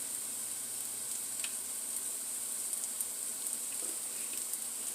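Onions sizzling in a little avocado oil with salt, a steady soft hiss of frying with a few faint clicks of stirring, no voices.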